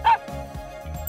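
A toy-voiced puppy gives a single short, bright yip-like bark at the start, followed by softer low sounds and quiet background.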